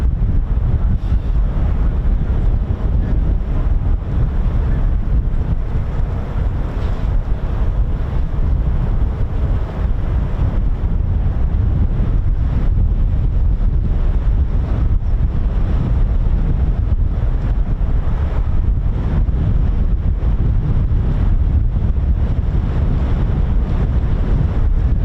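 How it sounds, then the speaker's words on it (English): Strong wind buffets the microphone continuously outdoors at RAF Lakenheath, a loud unbroken low roar and rumble with no break for the whole stretch. "Up again just when I think the wind is all right, and then it suddenly just goes crazy."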